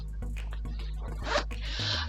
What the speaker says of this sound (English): Zipper works well.